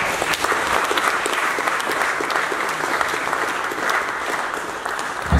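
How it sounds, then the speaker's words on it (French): Steady applause from an audience in a hall at a Congolese political debate in Belgium, dense and sustained throughout with no gaps, a few faint voices mixed into the clapping. "Applaudissons-nous tous."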